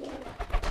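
A male pigeon coos while driving its mate, a brief close burst of low throaty cooing lasting under a second.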